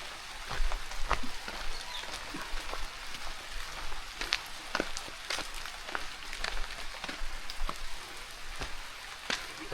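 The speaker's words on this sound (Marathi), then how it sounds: "चला बघूया पाऊस वाढतो का कमी होतो." Sudden afternoon April rain falls in a village, a steady wash of drizzle broken by many distinct sharp drop hits landing on nearby surfaces, continuing without pause.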